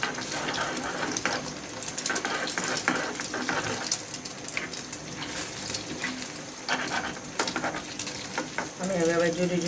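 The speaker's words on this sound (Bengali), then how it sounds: "তেলটা গরম হয়ে গিয়েছে, আমি ডিমটা দিয়ে দিতেছি।" An egg dropped into hot oil in a pan, busy crackling sizzle with clattering utensil and scraping sounds throughout, fairly loud and close, a short tonal sound near the end.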